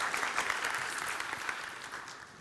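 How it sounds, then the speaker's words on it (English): An audience at an AI startup pitch event claps for a presenter, thick continuous applause from a crowded room that fades slightly toward the end. "Round of applause for Thomas, please."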